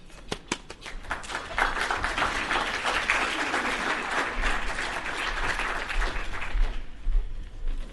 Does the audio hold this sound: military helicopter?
no